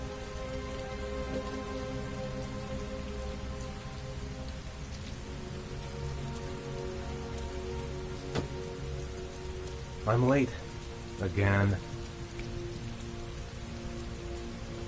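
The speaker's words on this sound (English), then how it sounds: "Heavy rain. It's been the same for weeks." Heavy rain pours steadily and evenly across the whole stretch, a dense continuous hiss with two brief bursts of a person speaking near the end.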